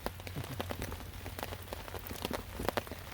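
Rain falling at night by a river, a steady patter of drops striking nearby surfaces with scattered louder splats, continuous and close with no voices.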